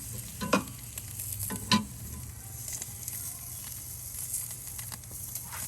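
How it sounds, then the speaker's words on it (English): Cheese sizzles in a dish inside an Ooni pizza oven, a steady crackling hiss with a low roar beneath and a couple of sharper pops near the start. "I don't know if you can hear that sizzling."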